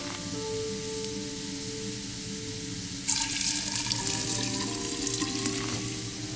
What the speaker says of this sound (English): let's fill this cauldron with plenty of water